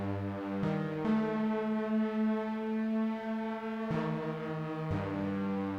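A synth pad patch built on a DRC synthesizer plays sustained, rich harmonic chords that shift pitch several times, steady and fairly loud, with no talk.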